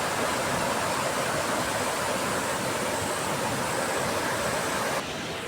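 A stream in the Konkan countryside roars with loud rushing water, a dense, unbroken wash of noise close by that never lets up, with no voices heard over it.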